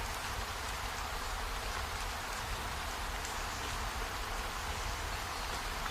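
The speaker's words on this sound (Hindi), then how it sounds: "ऊपर से बारिश भी हो रहा है।" Steady rain pours down in an animated Hindi moral story, a dense, even hiss of drops on the ground and foliage that runs unbroken and alone, with no voices.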